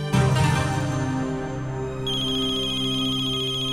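A mobile phone rings with a bright, repeating electronic melody, loud and close, shifting to a higher-pitched pattern partway through, with no talking.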